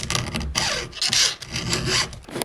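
Hand file sharpening chainsaw teeth, short rasping strokes close up, several back-and-forth scrapes in quick succession with brief pauses between them.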